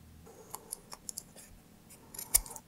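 Scissors snip through the braided loop of a recycled fabric choker, giving a string of sharp, close clicks spread across a couple of seconds, with the loudest cut near the end, in an otherwise quiet room.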